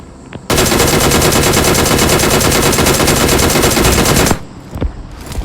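Gunfire in the PUBG video game: a loud, sustained automatic burst rattles for about four seconds, with quieter game noise before and after.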